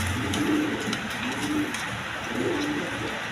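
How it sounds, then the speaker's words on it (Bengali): A pair of house pigeons of andalusian colouring coo softly and repeatedly at close range, low rolling calls in a slow rhythm over a faint background hum. "এক পেয়ার অ্যান্ডোলেশন কালার হাউস পিজন কবুতর"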